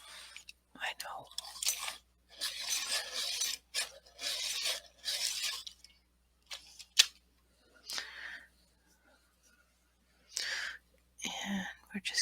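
Caran d'Ache Pablo colored pencils are sharpened with dry, rasping turns in several short bursts, close and clear, separated by pauses and a few quiet clicks.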